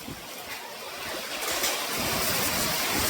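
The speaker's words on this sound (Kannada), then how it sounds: "ಗಾಳಿ ಮಳೆಗೆ ಎಲ್ಲ ಎಗರೋಗೋ ಪರಿಸ್ಥಿತಿ ಇದೆ." A heavy wind and rain storm in Sagar makes a dense, roaring rush of noise that swells louder partway through and stays strong to the end.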